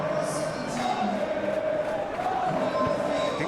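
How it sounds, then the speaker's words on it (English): Stadium crowd in a Football Life 26 match roars in a sustained, swelling wash of cheering and chanting, loud and continuous throughout. "the crowd are reacting to that now"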